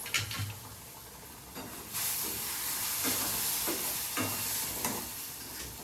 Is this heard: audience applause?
no